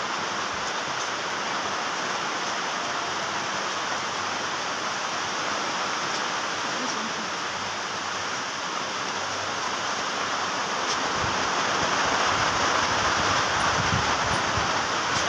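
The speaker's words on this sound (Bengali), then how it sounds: "প্রচণ্ড হারে ঝড় বৃষ্টি এসছে" Steady, heavy rain pours down in a dense wash of noise, with wind adding a continuous roar throughout; no voices.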